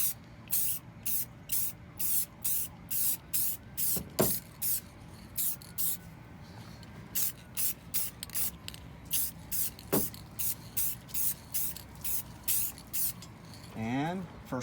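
Rapid short bursts of spray paint hiss in a steady rhythm while coating a headlight on a truck tailgate, pausing briefly between passes, with a couple of faint clinks and a scrape near the end.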